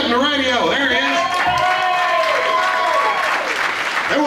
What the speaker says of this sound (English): Round of applause for Billy Kidd in the radio.